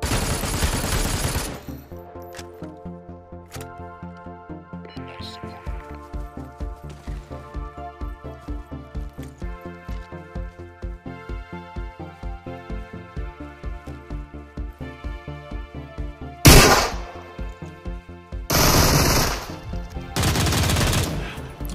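A Gatling gun with fire-damage bullets spins up and fires long rapid bursts in the game Super People, a dense mechanical rattle lasting many seconds and ending in a few loud blasts near the close.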